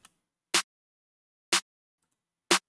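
Three dry, unprocessed snare hits from a simple FL Studio pattern, evenly spaced about a second apart, each a short bright broadband crack standing alone.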